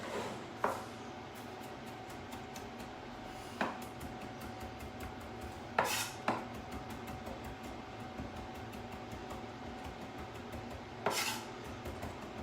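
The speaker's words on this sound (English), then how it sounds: "Just roughly chop that fresh coriander up." A knife roughly chops fresh coriander on a board in a few sparse, sharp knocks over a quiet kitchen hum, with occasional faint clinks between cuts.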